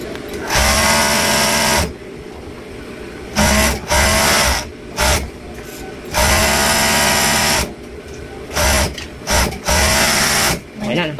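Siruba overlock sewing machine, repaired after a broken needle was removed, running in loud rapid bursts of whirring stitching that start and stop, with short pauses between runs and talk in the background.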